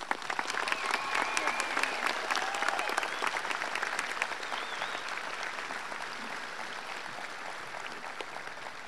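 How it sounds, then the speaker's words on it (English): Steady applause from a graduation ceremony audience cheering high school graduates of the class of 2020, a dense wash of clapping that gradually thins slightly toward the end, with faint crowd voices mixed in. "Please join me in giving these students a round of applause."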